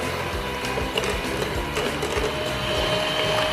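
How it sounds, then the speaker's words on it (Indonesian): Electric mixer beating cake batter at high speed: a loud, continuous, close motor whir with a rhythmic grinding, rattling texture that holds steady throughout, with no voices. "ini di mixer menggunakan kecepatan tinggi"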